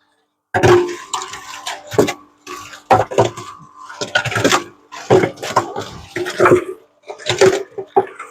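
Bricks and water tumbling inside a rotating cement mixer, heard close as a string of irregular knocks, clatters and sloshing bursts with short pauses between them.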